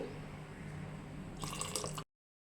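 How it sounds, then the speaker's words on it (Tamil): Water poured from a glass into a pot of akkaravadisal, a sweet rice dish cooked in milk, heard as a brief splashing trickle near the end over a steady low kitchen hum, stopping abruptly. "நல்லா கிளறினதுக்கப்புறம் கொஞ்சம் தண்ணி சேர்த்துக்கிறேன் இந்த கிளாஸ் அளவுக்கு"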